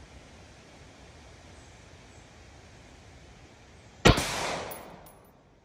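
A single loud gunshot from a Ruger 5.56 rifle firing .223 rounds at an outdoor range, about 30 yards from the target, cracks sharply after quiet ambience and rings off into a fading tail.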